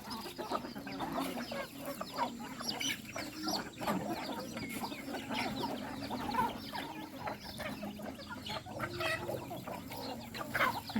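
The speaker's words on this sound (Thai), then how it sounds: "เจอไก่" Chickens clucking and calling on a rural Thai farm, a busy scatter of overlapping clucks and chirps at moderate distance over faint background noise.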